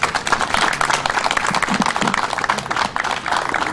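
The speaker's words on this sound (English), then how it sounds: "So a round of applause for everyone" A crowd at a flag retirement ceremony in the Veterans Hall in Placerville claps for the volunteers, a full, lively burst of applause with some murmuring voices underneath.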